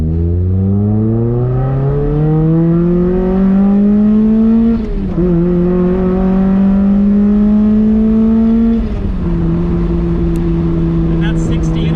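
A Mazda Miata running without nitrous accelerates hard through second into third gear, the loud engine note rising steadily, dipping at the shift around five seconds, climbing again, then settling at a steady drone.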